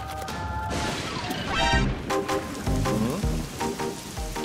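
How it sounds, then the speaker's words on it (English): Rain pours down steadily in a dense, noisy patter, broken by loud crashing and thudding impacts that punctuate the downpour throughout. "Oh no, not rain."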